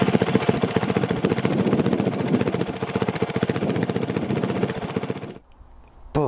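A Honda CRF450L motorcycle engine runs with a steady, loud drone and rapid rhythmic pulse, muffled by a dampening cover, for about five seconds, then cuts off abruptly, leaving near silence before a brief noise.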